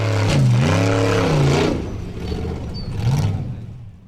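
A formula offroad car's engine revs hard, rising and falling through several throttle bursts while climbing at a race on Svinavatn, loud and close, then dropping back before another rev near the end.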